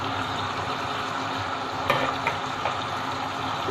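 Onions and spices fry steadily in a pot with chicken powder, salt and tamarind pieces, giving a constant close sizzle with a few soft stirring scrapes.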